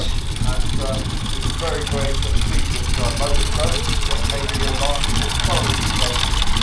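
Classic Morgan car engine idling at a village car show in Sussex, a low steady rumble with a faint rhythmic chug, heard under outdoor chatter and ambient noise.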